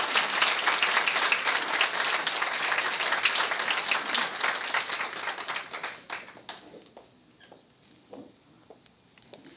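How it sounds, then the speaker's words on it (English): A crowd at an American Legion public service awards ceremony applauds award recipients, dense steady clapping that thins and fades out over the last few seconds into scattered claps. "Let's give them a round of applause."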